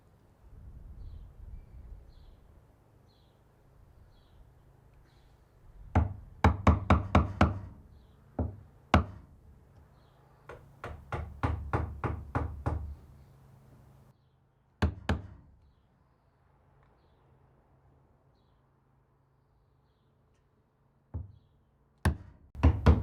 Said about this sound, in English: I'm just going to cut a small hole in the wood there just to allow that in